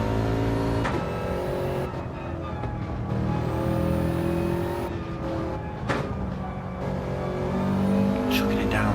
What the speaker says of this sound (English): Chucking it down third and fourth gear, switching it between them.